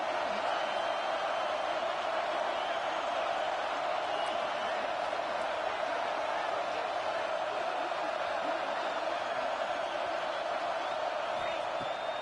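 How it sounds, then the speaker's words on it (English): Football stadium crowd at a Texas Tech game roaring steadily on a fourth-down defensive stand, a dense, continuous wash of cheering and noise that holds at an even level throughout. "this crowd trying to help this defense rise to the occasion"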